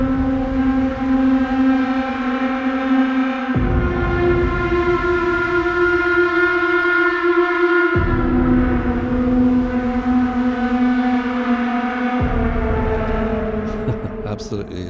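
Impending Doom preset from Arturia's V Collection X synth plays a loud, sustained droning chord with buzzy harmonics, shifting pitch every few seconds like a slow ominous siren swell, heard alone without talk.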